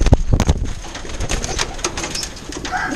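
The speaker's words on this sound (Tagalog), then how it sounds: "Yan yung kalapati natin, no?" Racing pigeons coo softly and repeatedly at a loft during training, with occasional wing flutters and thuds close by.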